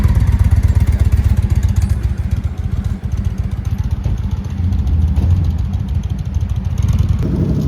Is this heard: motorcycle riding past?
yes